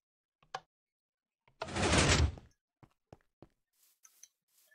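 A Minecraft wooden door clicks open and shut in-game, with a short dense burst between sparse small ticks and taps, close and fairly quiet.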